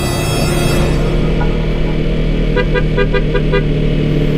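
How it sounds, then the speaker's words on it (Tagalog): Loud, steady car engine and road noise on a steep road, with a few short horn toots sounding in quick succession partway through. "Busina."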